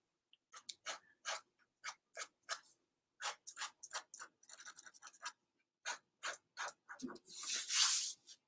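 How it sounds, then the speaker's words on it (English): A pen scratches and strokes across an artboard in quick, close, dry rhythmic scrapes, with brief pauses between strokes and a louder rough swipe near the end. "You can also hear that nice little sound of the pen going against the artboard."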